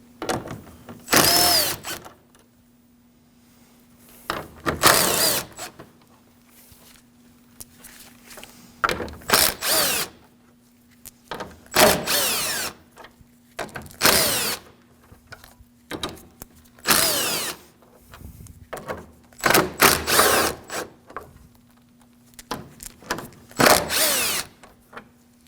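Power tool spinning out 10mm bolts along the top of a Honda Pilot grille, short sharp whirring bursts repeated about a dozen times with quiet gaps between, close by, with a steady low hum beneath.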